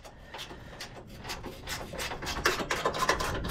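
Bolts are loosened on the radiator of a 2015 Dodge Charger 5.7 Pursuit, giving rapid, repeated ratcheting clicks and scraping rubs close up, growing slightly louder toward the end.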